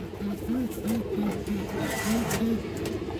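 A caged female pigeon with purple feet coos in soft repeated rounded calls, roughly eight short coos over a few seconds, close and steady against a low background hum.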